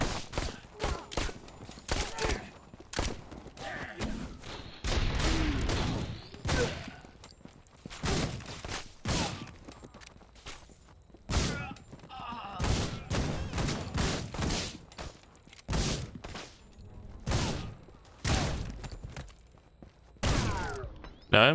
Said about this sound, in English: Machine gun has no stun factor at all.